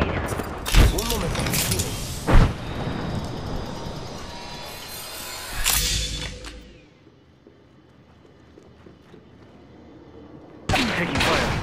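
Gunfire in the Apex Legends video game, with several sharp shots and dense bursts over game noise and effects, then a quieter stretch and renewed loud action near the end.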